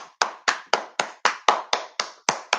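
One person claps hands in a slow, even rhythm, ten or so sharp, close claps spaced about a quarter second apart, with nothing else sounding between them.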